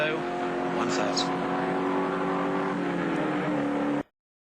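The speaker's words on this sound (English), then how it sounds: "there's Alan Brown going back on to Breville Conrod Straight" Holden Commodore touring car racing at the Bathurst 1000 in 1980, a steady loud engine drone under continuous commentary from a broadcaster.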